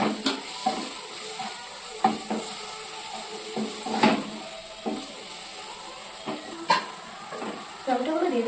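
Tomatoes added to fried onions in a pan for a pasta recipe, giving a steady low sizzle broken by repeated scraping stirs and clinks of a utensil against the pan, close and moderately loud.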